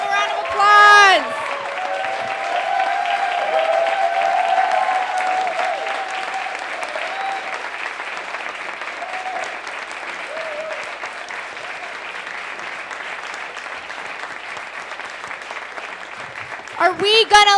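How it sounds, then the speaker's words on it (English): Crowd applause at an affordable housing rally, steady clapping and some cheering sustained for the whole stretch, with voices briefly at the start and end. "give a round of applause"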